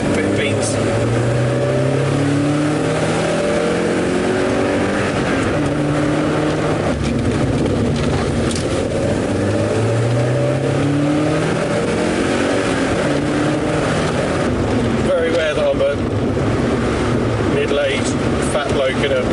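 A 1.8-litre NB Mazda MX-5 Miata sports car about twenty years old accelerates hard with a loud, steady engine drone that climbs in repeated rising sweeps through the gears, filling the whole stretch.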